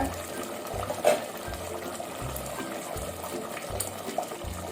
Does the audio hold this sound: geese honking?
no